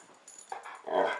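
A dog whimpers while playing with its toy, giving a few short, close, breathy whines that rise near the end, with no talking.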